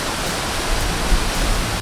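Mactol Falls pours steadily in a dense, close rushing roar of falling water, constant and broadband over a short stretch with no voices.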